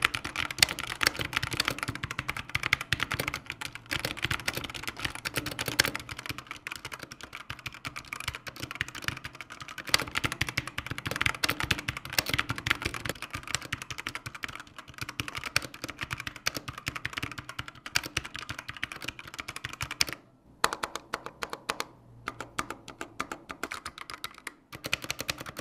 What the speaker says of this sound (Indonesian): mending dengerin suara switch-nya aja dulu